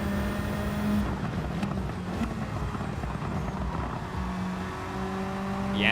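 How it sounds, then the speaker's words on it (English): Race car engine in Gran Turismo 7 Gr.3 racing, running steadily throughout with revving and crackly anti-lag pops over a continuous drone, close and fairly loud, no talking. "The anti-lag sound of the popping. It's pretty cool on this car."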